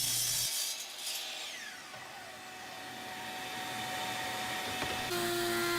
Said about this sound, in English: cutting this at the chop saw for her